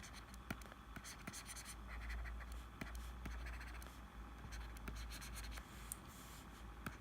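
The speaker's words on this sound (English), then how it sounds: "I'm gonna continue drawing on this for a little while longer" Pen or pencil scratching across paper while drawing, a steady close run of rough strokes and short scrapes that goes on throughout with no talking.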